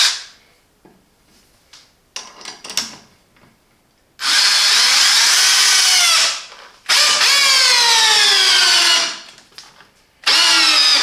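Parkside PABH 20-li C3 cordless hammer drill in drilling mode with a long 22 cm bit, giving three loud whining bursts of motor speed, each rising in pitch, separated by short pauses and quiet handling noises.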